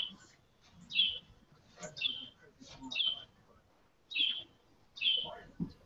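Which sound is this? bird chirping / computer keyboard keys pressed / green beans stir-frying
bird chirping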